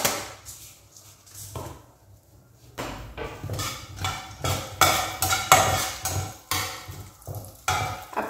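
Black mustard seeds crackle and pop in hot mustard oil in a pan, with bursts of spattering sizzle and scattered utensil clinks that grow louder and denser toward the end.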